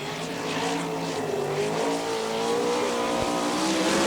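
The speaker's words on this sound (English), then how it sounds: "Terry Pletch on the track. He'll come around for the white flag this time around. First qualifying lap" A sprint car on a dirt track at the All Star Circuit of Champions Winternationals in Gibsonton, Florida, running a qualifying lap: a continuous, loud engine roar with shifting pitch as it passes, heard alone.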